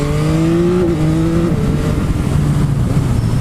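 A 2021 Yamaha MT-09 SP motorcycle engine is ridden hard at full throttle, a loud, close howl rising in pitch with quick gear changes and fading slightly toward the end, with no voices.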